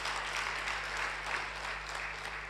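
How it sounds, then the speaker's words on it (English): A hall audience at a women's journalism event claps for the only female editor of a national daily, steady, even applause held at moderate level with a low constant hum beneath it. "I want you two people to clap for this rare woman."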